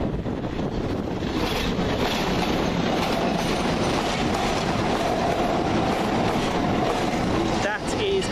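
A London Underground District line train arriving at Stamford Brook, its loud, continuous rumble and rail noise filling the whole stretch with wind buffeting the microphone, a brief squeal near the end.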